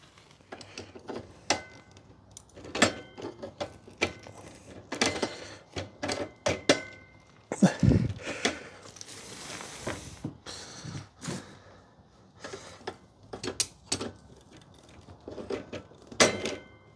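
Reverse-threaded parts on a bicycle being worked loose, heard as irregular sharp metallic clicks and ratcheting ticks in uneven bursts, close and fairly loud with brief pauses between.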